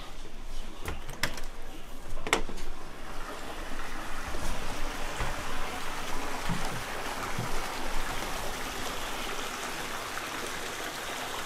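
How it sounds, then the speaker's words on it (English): Small creek running past a cabin deck in Yellowstone country, a steady broadband rush of flowing water throughout, with a few brief knocks early on and no talking. "Nice little creek running through the property."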